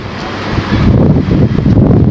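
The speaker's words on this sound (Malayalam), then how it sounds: "നല്ല കാറ്റ്." Strong outdoor wind buffets the microphone in loud, low rumbling gusts that swell and stay heavy throughout, with no voices.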